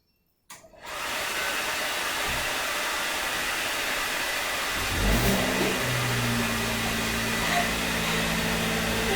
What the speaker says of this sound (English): just going to turn on the hairdryer.